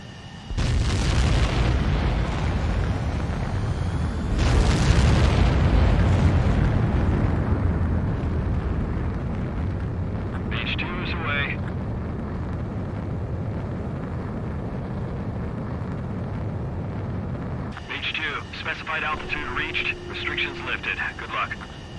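A fighter jet launches for takeoff in Ace Combat 7, a loud rumbling roar and boom that swells early and then settles into a sustained engine drone, with radio chatter on top.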